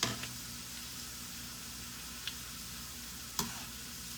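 Food frying in hot cooking oil in a home kitchen, a steady soft sizzle with a few sharp ticks and taps of a utensil against the pan.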